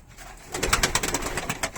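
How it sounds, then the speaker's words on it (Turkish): Racing pigeons coo in soft, rolling calls close by in a loft, a brief quiet stretch giving way to a cluster of overlapping coos. "Böyle arkadaşlar kuşlar burada."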